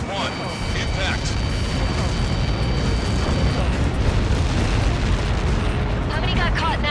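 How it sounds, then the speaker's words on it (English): Explosion in the combat flight game Ace Combat 7: Skies Unknown, a dense, sustained rumbling roar running the whole time under layered game effects, with radio chatter voices cutting in over the blast. "How many got caught in that explosion?"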